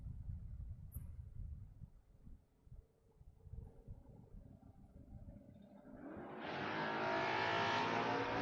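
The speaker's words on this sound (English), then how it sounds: "Big wheelie for the Monte Carlo" A Chevrolet Monte Carlo door car drag racing at a strip launches hard with a wheelie, a low idling rumble building into a loud roaring engine surge that holds steady to the end.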